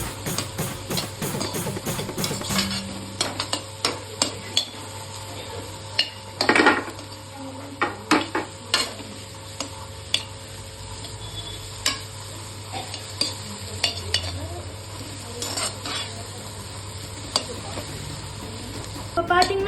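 Ingredients for homemade fried rice are sautéed in a pan, with a spatula scraping and clinking against the metal in irregular strokes over a steady low sizzle, close and fairly loud.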